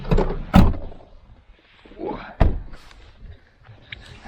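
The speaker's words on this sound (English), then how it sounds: "now I'm just going to lock the doors." Car doors shut with two sharp, close thunks about two seconds apart, followed by faint mechanical sounds of the locks, outdoors in winter at Allegany State Park.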